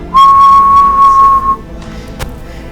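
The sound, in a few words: whistling imitating a pure sine tone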